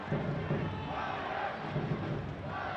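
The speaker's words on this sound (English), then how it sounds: "Crowd trying to urge the home side back into this one." A stadium crowd at a Chicago Fire versus Houston Dynamo US Open Cup quarterfinal soccer match roars in a steady, dense wash of cheering and chanting, heard from a distance and unbroken throughout.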